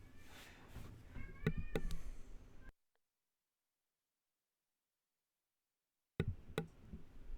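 A house cat meows a few times nearby, short tonal calls over low room noise, cut by a stretch of silence before background sound returns.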